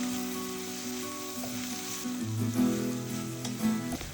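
Tomato, tamarind, asafoetida, grated coconut, coriander and curry leaves sauté in a pan with a soft, continuous sizzle, partly masked by steady background music.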